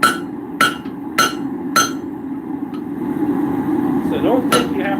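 A 1.25-pound hammer strikes iron on an anvil in a small blacksmithing setup, four sharp evenly spaced ringing blows followed by a faint tap and one more strike, heard up close against a steady background hum.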